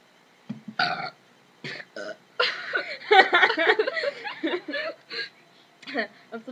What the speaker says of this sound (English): We're gonna have a burping contest.